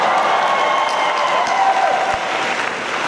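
Dense, steady applause and cheering from a large crowd at a Dallas Comic Con Doctor Who panel with Peter Capaldi, sustained and close throughout.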